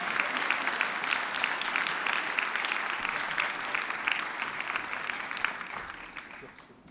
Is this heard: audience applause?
yes